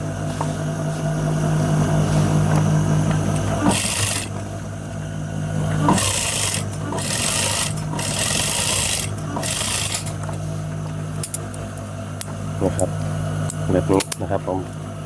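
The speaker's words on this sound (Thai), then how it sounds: "เสร็จแล้วเราก็มาเย็บริมข้างใน ให้ติดกับผ้ากระเพราไว้ด้วย" A sewing machine stitches the inner edge of a cloth bag. Its close, humming motor runs in a long stretch, then in short bursts broken by brief pauses, and ends with a few quick runs.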